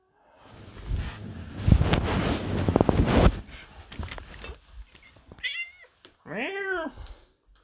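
A cat meows twice near the end, two short drawn-out calls a moment apart, after a stretch of rustling and wind noise at the microphone.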